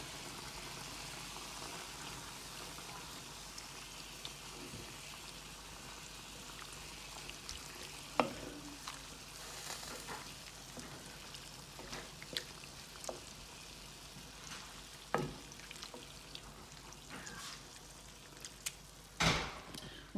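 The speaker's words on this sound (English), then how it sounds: "And then I'm adding a can of tinned tomatoes. Give that a stir." Tinned tomatoes and stock are stirred in a pot, giving a quiet, wet, bubbling rustle throughout. Faint clicks and taps of the spoon against the pot recur irregularly, and no one speaks.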